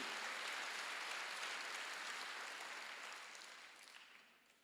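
Faint, dense applause from a congregation at a Wednesday church service, a steady wash of many hands that holds and then slowly fades away.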